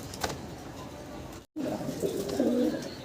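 Soft, low cooing of a large homer pigeon pair close by, a throaty burbling call swelling near the end over faint background noise, briefly cut by a silent gap.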